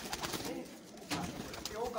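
Sialkoti and Dubai pigeons coo in soft, repeated bursts, close by, with other birds calling in the background and a voice talking over parts of it.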